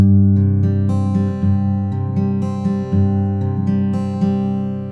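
A guitar plays a steady fingerpicked pattern, notes ringing over each other in a smooth repeating rhythm, close and clear.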